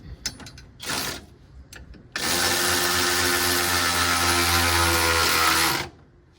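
A sway bar link bolt on a Can-Am Defender is tightened: a few ratchet clicks come first, then a power tool runs loudly and steadily for several seconds before stopping.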